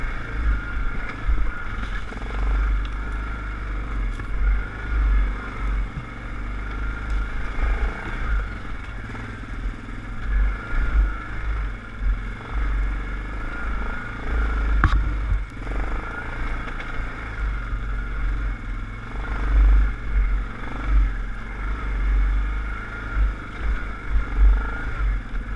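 An ATV engine drones steadily as the machine rides over rough ground, with rumbling low end, rattling and clatter throughout, loud and close, rising and dipping with the terrain.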